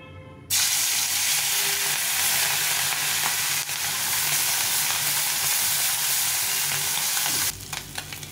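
Small morla fish hitting hot oil burst into a loud, dense sizzle that holds steady for several seconds, close up, then drops away abruptly near the end, no voices.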